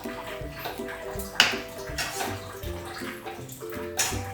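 Nam Ngu fish sauce poured into a bowl in a home kitchen, a short liquid splash and trickle against background clatter, with a sharp knock partway through; close and moderately loud, no speech.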